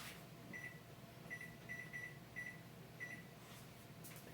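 A kitchen timer being set while baking a two-ingredient pumpkin loaf gives a series of short, faint electronic beeps, spaced irregularly as buttons are pressed, over quiet room hum.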